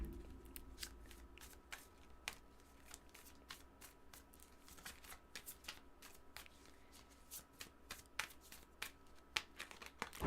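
Tarot cards being shuffled by hand in a quiet room produce a quick series of soft, crisp riffles and slaps, irregular and close, with no speech.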